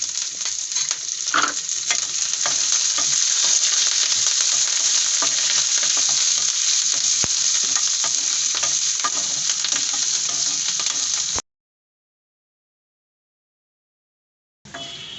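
Green chillies frying in a pan with asafoetida give a loud, continuous close sizzle with faint stirring scrapes, cutting to silence near the end before the sizzle briefly returns.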